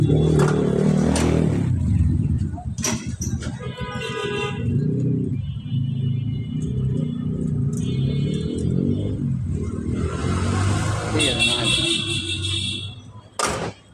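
Engine of a used Toyota Axio running at idle, a steady low rumble close by with some clatter and a brief voice, the drone continuing for the whole stretch.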